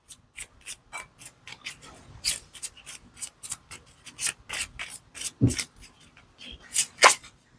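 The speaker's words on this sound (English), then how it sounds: "can also shuffle it like this." A mini tarot deck is shuffled by hand, with a rapid series of crisp papery riffles and slides, card edges flicking in uneven bursts, close and clear, with no talking.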